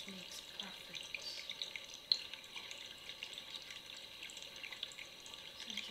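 Steady rushing water of a waterfall in a quiet outdoor meditation setting, a continuous low wash of splashing and trickling at moderate distance, with no talk.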